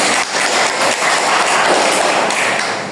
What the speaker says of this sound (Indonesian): Tepuk tangan untuk Karlir.